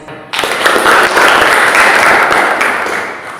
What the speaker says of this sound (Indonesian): Iya, tepuk tangan untuk semuanya.